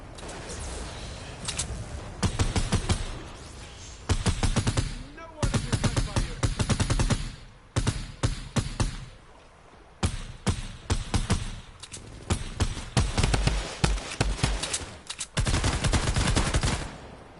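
Weapons in Fortnite Save the World, the Grave Digger and Rat King, fire in loud, rapid automatic bursts, each lasting a second or two and separated by short pauses, with a faint voice in the background.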